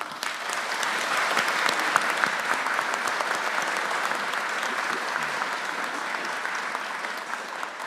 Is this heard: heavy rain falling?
no